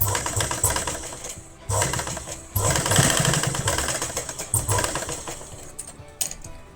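A domestic sewing machine runs close by in rapid mechanical bursts while stitching the shoulder seam of a lined kurti, stopping and restarting several times.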